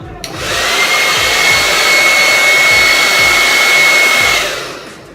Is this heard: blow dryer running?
yes